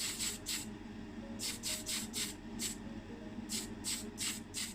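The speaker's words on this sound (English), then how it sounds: "I use this Tamiya Black TS14 for the base. So with the main casting here, I'll start by spraying on the inside of the car." Short bursts of Tamiya TS14 black spray paint hiss onto a die-cast Matchbox Jaguar 3.4 Litre model car casting, coming in rhythmic clusters of quick sprays separated by brief pauses, close and fairly quiet.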